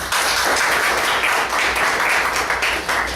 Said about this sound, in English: Let's give team A a big round of applause.